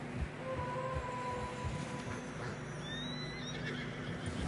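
A horse in Red Dead Redemption 2 lets out a drawn-out whinny in a snowy mountain setting, moderately distant over a steady background rumble, with no speech.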